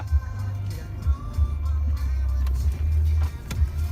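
A car with a 1.9 engine labours up a steep hill at low throttle, a deep uneven rumble that surges and fades in pulses, fairly quiet, with faint scuffs and knocks around it.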